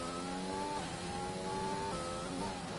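An F1 race car engine in the video game F1 2020 downshifts while braking for a corner, the high revving whine stepping down in pitch several times in quick succession, steady and close.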